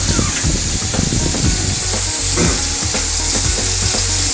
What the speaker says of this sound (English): You want to get a nice sear on this.